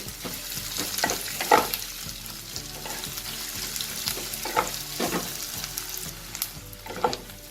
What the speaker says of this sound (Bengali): পেঁয়াজটা আমি হালকা ব্রাউন করে একটু ভাজবো।